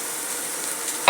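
Ginger and garlic hit golden fried onions in a pan with a soft, steady sizzle, ending in a brief louder scrape of stirring, with no voices.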